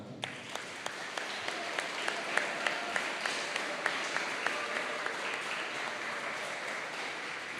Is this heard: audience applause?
yes